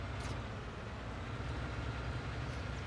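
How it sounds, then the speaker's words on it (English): A tractor engine in the Farming Simulator 19 video game runs with a steady, low, unbroken rumble for the whole few seconds, with no talking over it. "this tractor has more horsepower than I remember"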